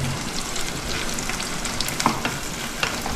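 Small onions sautéing in an oil-filled pan for a home-cooked feast, a steady dense sizzle with occasional stirring clinks, close and continuous with no talk.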